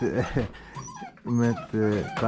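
A dog whimpers and yips in short, high, pleading cries, close by, broken by brief pauses, while a person speaks softly to it.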